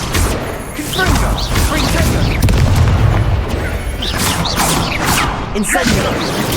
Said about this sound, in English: Confringo! Confringo!